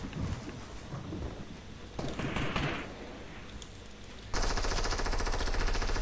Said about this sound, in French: on me dit spam au lance-roquette, moi je tire hein